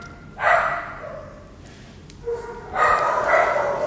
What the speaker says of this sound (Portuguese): agora começou o passeio dos cachorros aqui, aí começa essa latição toda